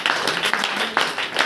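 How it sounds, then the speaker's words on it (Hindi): A congregation at a Saturday church prayer meeting claps hands in quick rhythmic bursts, a roomful of palms beating together at moderate loudness. "ताली बजाकर परमेश्वर"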